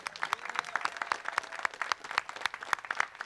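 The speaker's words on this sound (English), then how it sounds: "And can we just give Irakli another round of applause?" A small crowd at a press conference claps steadily and briskly, a dense patter of hand claps heard up close with no voices over it.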